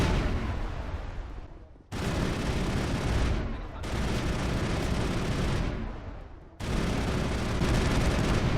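Sustained gunfire in Mass Effect 1 roars in three long unbroken bursts, each loud and dense, with brief pauses between them.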